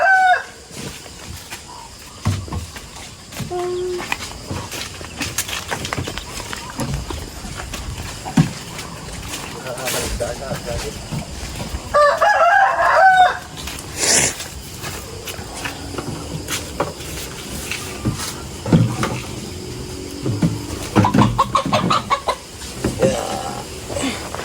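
Chickens in a rural provincial yard, with clucks and a rooster crow heard at a distance among scattered footsteps, wing flaps and intermittent conversation.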